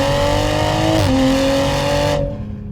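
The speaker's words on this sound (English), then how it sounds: "I will admit the pops on this car are a little excessive." A 2021 Toyota Supra engine revs loudly and close, holding a high steady note that dips briefly and settles before cutting off abruptly.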